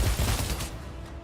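A short, loud burst of rapid gunfire from a video game, a dense rumbling fusillade that tapers off over about a second.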